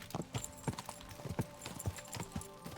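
Quick rhythmic hoofbeats of a horse galloping in a video game, a steady repeating clip-clop with no voices.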